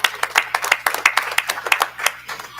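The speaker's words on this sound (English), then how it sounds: "I think that deserves a round of applause" A small group at a university board of supervisors meeting claps in applause, close and fairly loud, with individual hand claps distinct in a quick, uneven patter.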